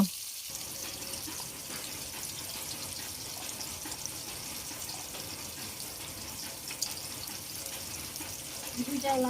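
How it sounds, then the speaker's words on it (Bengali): Onions frying in oil for chicken biryani make a continuous, even, hissing sizzle close by that holds steady for several seconds, with a few clinks near the end. "তো তেল দিয়ে পেঁয়াজ দিয়ে দিল"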